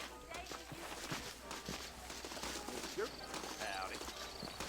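Horse hooves clip-clop at a walking pace in a Red Dead Redemption western game scene, a steady rhythm of light knocks under continuous talk and background ambience.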